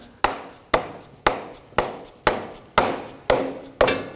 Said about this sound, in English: use our rubber dead blow hammer